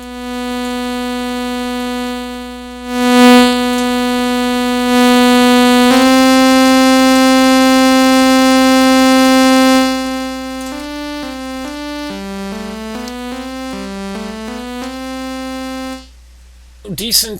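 A U-he Hive soft synth holds sustained, even tones that then step down through a run of shorter notes, sounding squeezed and level through its built-in compressor.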